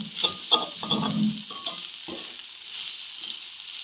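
Egg fries in a pan while a utensil stirs and scrapes against it, several close scraping strokes over a soft steady sizzle that continues alone afterward.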